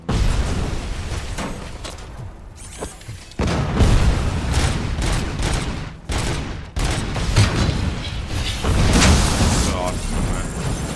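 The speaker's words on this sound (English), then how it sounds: "Nešto iza mene eksplodiralo." A loud explosion goes off behind the player in the video game RoboCop: Rogue City, amid a dense, continuous barrage of gunfire and booms that keeps the whole stretch busy, with brief dips before the noise surges again.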